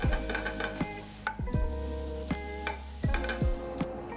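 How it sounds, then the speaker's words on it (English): Sliced onions and carrots sizzle in a little oil in a pan, with steady close frying hiss broken by repeated clinks and scrapes of stirring utensils against the metal. "using the same pan, a little bit more oil, and you add your sliced onions, and your carrots can go in at the same time"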